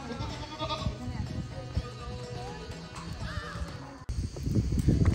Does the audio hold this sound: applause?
no